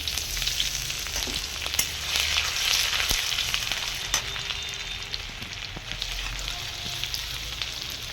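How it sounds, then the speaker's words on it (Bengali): Ginger and garlic fry in oil in a wok, giving a steady, dense crackling sizzle with scattered pops and a faint low rumble beneath, continuous throughout. "আদা রসুনটাকে একটু ভাজা ভাজা করে নেবো"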